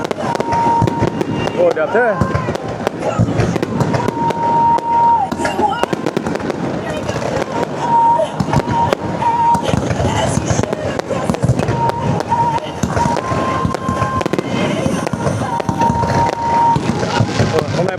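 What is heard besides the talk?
fireworks display at Vu Yen Island, Hai Phong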